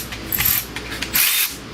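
A ratchet wrench works loose 13 mm bolts on the reservoir of a Dodge Grand Caravan during an alternator job, heard as two short, close bursts of rapid clicking separated by a brief pause.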